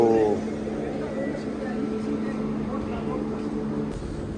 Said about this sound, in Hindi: अगर कहा जाए तो ये एक लंबी अदद ट्रेन है